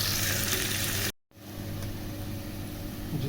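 Onions frying in oil in a pot for a pumpkin and chana dal curry, a steady broadband sizzle that cuts out briefly after about a second, then resumes at a constant, moderately loud level with no talking.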